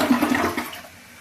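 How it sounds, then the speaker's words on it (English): A newly installed toilet flushes once up close, a loud rushing swirl of water that drains down and fades into a quieter refill trickle, with no talking. "Let's flush."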